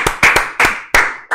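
A small group claps a few times in slow, separate bursts, close and fairly loud, at the farewell of a podcast episode.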